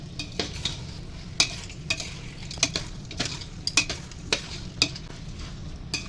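Fried mushrooms being stirred in a hot pan for Chennai street-style mushroom fried rice, with repeated sharp spatula scrapes and clinks over a steady close sizzle.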